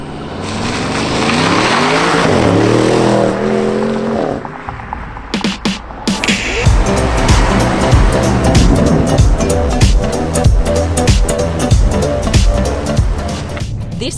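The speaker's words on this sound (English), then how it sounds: "This car has a twin turbo V8 with 600 horsepower." An Audi RS7 with a 600-horsepower twin-turbo V8 pulls hard on a German autobahn, a loud, rising engine roar over rushing road and wind noise that briefly drops off, then resumes with a busier, throbbing drone.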